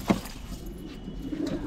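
Punjabi pigeons give soft, low cooing murmurs, close by and fairly quiet, over a steady background rumble.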